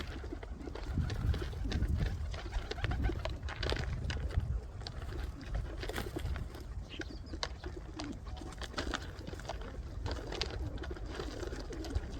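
Pigeons coo and flutter close by amid a steady rustling, pecking background, with a continuous busy murmur of birds feeding.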